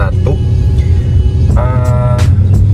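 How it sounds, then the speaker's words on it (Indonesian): A 1991 BMW E30 with the 1800cc M40 engine drives along with a loud, steady low engine rumble and road noise, plus a brief rising whine. "Jadi mobil ini BMW E30 M40 1800 cc. Mobil ini tahun 91."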